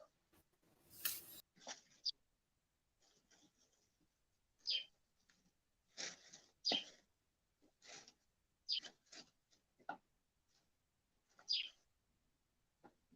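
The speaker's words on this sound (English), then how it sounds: "I love the sound of birds" Scattered bird chirps and short calls ring out at irregular intervals over near silence, some bright and close, others fainter.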